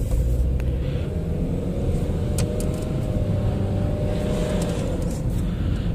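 A 2008 Ford Fusion with an automatic transmission idles and pulls away with a steady low engine rumble as it shifts into second gear, close and continuous with no talking.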